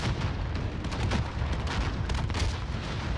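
Call of Duty Warzone gunfire and heavy booms rattle in a dense, continuous barrage of shots and blasts that stays loud and chaotic throughout.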